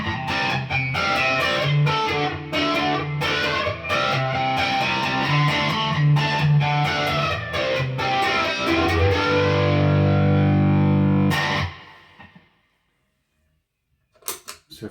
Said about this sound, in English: bank 2, channel 2, I've got a sort of phaser drive sound.